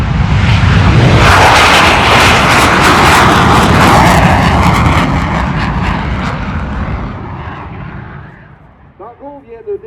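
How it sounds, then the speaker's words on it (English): A CF-18 Hornet fighter jet takes off at an airshow, a loud, sustained roar of jet engines that dominates, then recedes into the distance while an announcer speaks over a public address system. "Here we go, so decollage. The CF-18 Hornet, are you ready?"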